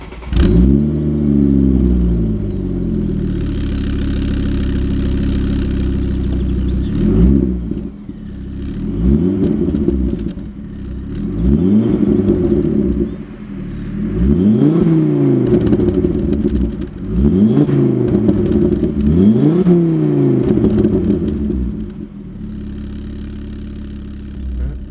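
A Ford Focus RS engine cranks and starts, then settles into a steady idle. It is blipped up in a series of sharp, close rising revs and left to idle between them.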